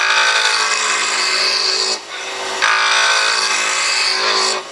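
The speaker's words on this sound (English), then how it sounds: "that's basically what I do to rough this out using a skew" A skew chisel roughing out a wooden box blank on a spinning lathe gives a loud, steady broadband shearing rasp that runs on, breaks off briefly near the middle, then resumes just as strongly.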